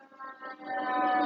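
A fire truck siren wails steadily in the distance, its tone holding and slowly swelling louder over a second or so.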